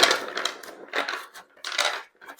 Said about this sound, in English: I'm just going to shuffle this deck here